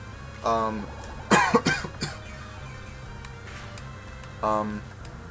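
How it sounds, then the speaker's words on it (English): Several harsh coughs, a tight cluster of loud bursts, break out midway through a stretch of Pokémon Ruby gameplay, with short chiptune-like tones from the game heard before and after. "I will be coughing on this episode."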